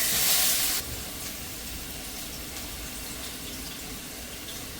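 Onion hits hot oil in a pan for pav bhaji, a loud hissing burst for the first second that settles into a steady, quieter sizzle, with no talk.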